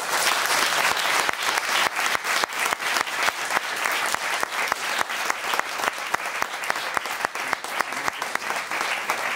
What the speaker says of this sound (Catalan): Demano aplaudiment per Raquel.